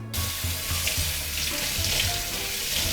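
Chicken legs rinsed under a running kitchen tap for Shaoxing drunken chicken, a steady close rush of water splashing in the sink for the whole span, no voices.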